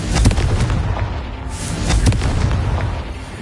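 Confringo spell explosion in a wizarding video game: a loud, close burst of booming blasts and crackling pops, rumbling for a few seconds.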